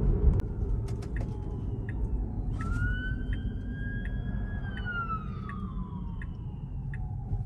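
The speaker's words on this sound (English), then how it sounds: "I just wanted to show that ambulance right there." An ambulance siren on the road wails with a rising and falling tone as it passes, heard from inside a Tesla car over steady road and cabin noise, with a few sharp clicks early on.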